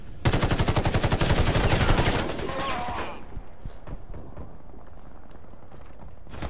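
Rapid automatic assault rifle fire in the video game Warface, a dense burst of sharp shots for about two seconds, then fading echoes and scattered softer sounds.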